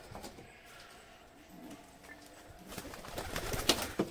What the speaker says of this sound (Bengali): সব পায়রাগুলো দেখো খাঁচায় ঢুকছে